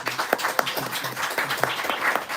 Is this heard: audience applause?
yes